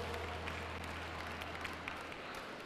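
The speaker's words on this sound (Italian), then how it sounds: "lo accogliamo con un applauso" At the Montichiari 2013 breeding-group show, an indoor audience gives a sustained round of applause, a dense, even patter of clapping heard from a distance under a low hum.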